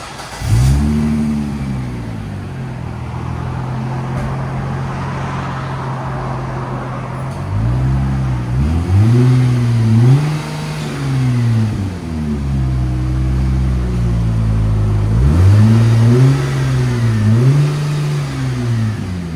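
A 1998 Plymouth Prowler idles with a deep, steady exhaust rumble, then revs repeatedly, the pitch rising and falling in several strong, loud swells close by, with no talk over it.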